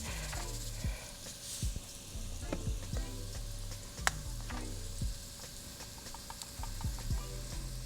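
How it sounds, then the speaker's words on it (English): Vegetables seasoned with salt and pepper sauté for chicken pot pie soup, hissing steadily up close while a utensil stirs and scrapes the pan in irregular strokes. "And let that saute"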